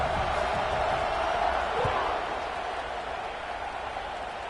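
Football stadium crowd roaring at a college game kickoff, a loud, steady wash of cheering voices that swells and then eases slightly, heard at a distance with no clear individual speech.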